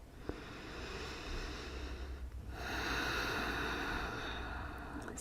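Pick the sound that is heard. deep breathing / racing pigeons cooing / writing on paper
deep breathing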